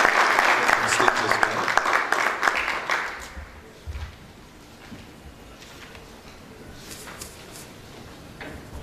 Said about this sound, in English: Please, a round of applause for him as he